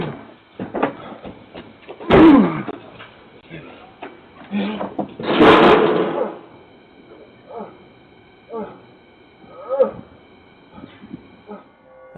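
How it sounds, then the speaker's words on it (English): A man slams his body full force into a homeowner's front door at night, with two heavy thuds standing out amid smaller knocks, rattles and muffled voices. "a man with tattered clothes can be seen slamming his body full force into the homeowner's front"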